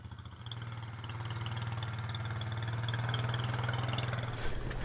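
A 2007 Honda Rancher ATV engine runs at a steady low putter close by and gradually grows slightly louder, with a brief knock near the end.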